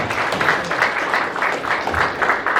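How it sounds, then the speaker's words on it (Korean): An audience at a Korean-American sports festival team launch ceremony in Atlanta applauds steadily to welcome a speaker, a dense, fairly loud wash of clapping. "큰 박수로 맞이해 주셨으면 감사하겠습니다."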